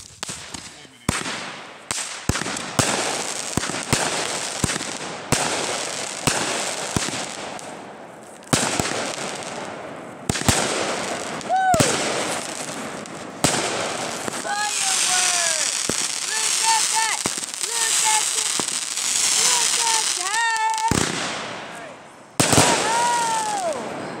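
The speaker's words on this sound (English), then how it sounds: "That's how you make a firework." New Year fireworks crackle and pop in rapid, irregular succession, loud and close, with people talking and reacting in between.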